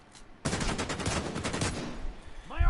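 Rapid video game gunfire from Division 2, a dense burst of shots rattling on for about two seconds after a short quiet start, then a brief voice near the end.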